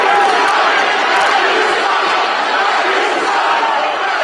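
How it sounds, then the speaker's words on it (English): A large arena crowd chants "Reggie sucks" at a basketball game, a loud dense roar of many voices sustained throughout, with no single voice standing out. "It's the crowd chanting Reggie sucks"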